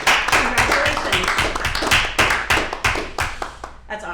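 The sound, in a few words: board members clapping, round of applause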